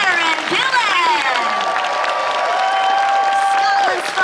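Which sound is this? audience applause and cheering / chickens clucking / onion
audience applause and cheering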